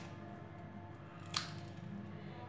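A crispy deep-fried Rajasthani korma puri snaps once in a single sharp, brief crack near the middle, close and clear against a faint background hum.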